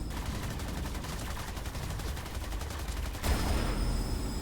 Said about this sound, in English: Yeah, look at those laser cannons.